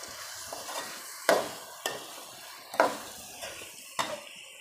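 Chopped onion stirred in a pan for turnip meat curry, with a spoon scraping and knocking against the pan in irregular strokes over a soft, steady sizzle.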